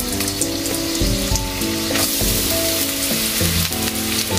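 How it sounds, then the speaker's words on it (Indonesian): Sliced onion and garlic sizzle steadily in about a tablespoon of hot oil in a pan, a loud, continuous frying crackle with no voices, cooked as the start of yakisoba fried noodles. "masukkan si bawang bombay ya"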